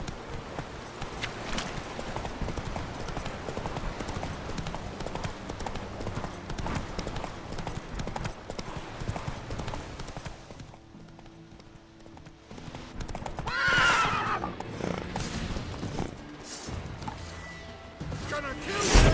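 Horse hooves clip-clopping at a gallop in The Witcher 3 video game, a steady rhythmic beat under game music and battle noise, with a brief louder burst partway through; no clear neigh stands out.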